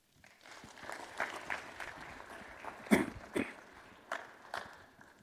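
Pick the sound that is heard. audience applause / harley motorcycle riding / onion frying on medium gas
audience applause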